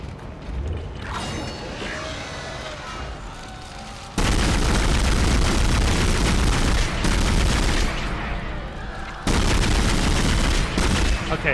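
Line gun fire in the Dead Space survival horror game, a loud sustained barrage of blasts and booming impacts with dense mechanical clatter, two sudden jumps to full intensity mid-clip.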